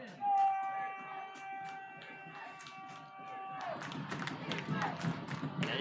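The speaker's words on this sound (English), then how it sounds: "And you can hear the crowd noise from this home side." A home-side crowd at a Friday night high school football game rumbles and cheers, a thin noise early on that swells into a louder, busier roar in the last two seconds, with a commentator talking throughout.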